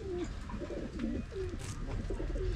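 Pigeons cooing while pecking at crushed eggshell, repeated close, low rolling coos over a steady background hum, no speech.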